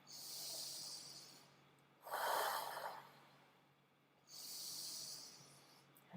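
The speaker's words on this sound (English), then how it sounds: "And keep that breathing in" Slow, deep meditative breathing, three drawn-out breaths with soft airy inhales and exhales spaced a couple of seconds apart, close and quiet with no talking.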